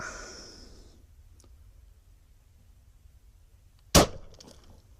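A 10mm pistol firing a 200 grain Nosler jacketed hollow point round: one sharp, loud gunshot crack with a brief ringing tail. It stands alone after a quiet stretch, with a faint clatter earlier.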